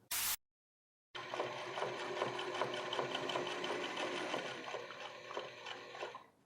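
Sewing machine running a line of top stitching on men's pants, a steady close rhythmic whirr with fast regular needle ticks lasting about five seconds after a brief click.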